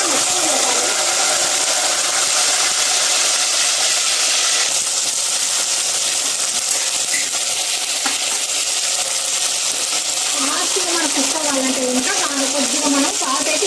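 Sliced eggplants (brinjals) sizzle steadily in hot oil for a Rayalaseema-style curry, a dense broadband frying hiss throughout, with a voice speaking over the cooking near the end.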